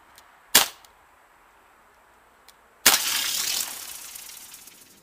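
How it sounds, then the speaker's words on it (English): A Crosman C11 steel BB pistol fires at a can of deodorant: one sharp crack, a pause, then a second crack followed by a long loud hiss of spraying aerosol that slowly fades. "Crossman C11, not the air mag, the one that shoots the metal BBs, shooting a can of deodorant."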